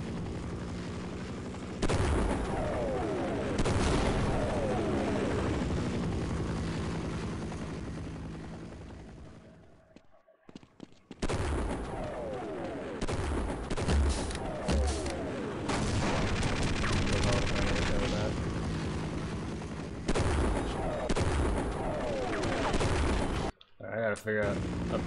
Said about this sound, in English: I gotta figure out where his gunfire is.